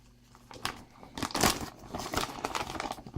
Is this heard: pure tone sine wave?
no